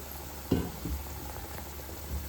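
Onions and chillies frying lightly in oil give a soft, steady sizzle close by, with a brief louder splash of movement near the start and no talking.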